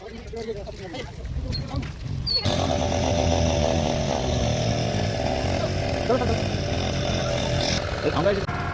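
A motor boat engine on Chilika Lake roars up loudly after a couple of seconds and holds a strong, steady drone close by, while people talk over it.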